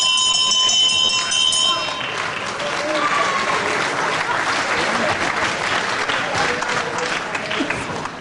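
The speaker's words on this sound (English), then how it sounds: "the bell will save McGregor from much more problem in this round" A wrestling ring bell rings out at the end of a round, its bright tone lasting about two seconds before fading into loud, steady crowd noise and applause, with a commentator talking over it.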